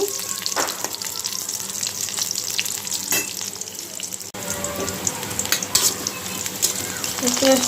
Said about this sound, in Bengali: তেলটা দিয়ে দিলাম পেঁয়াজ আর তেজপাতা একটু ভেজে নিব